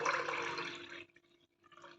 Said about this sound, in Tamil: இந்த தண்ணியை வடிகஞ்சியோடு சேர்த்து ஊற்றிக்கலாம்